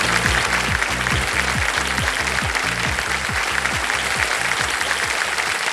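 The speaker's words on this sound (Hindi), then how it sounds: "जनता ने पहले ही ताली बजा दी।" Studio audience applause on a Hindi television quiz show, dense even clapping over a rhythmic low thumping music beat that pulses steadily underneath throughout.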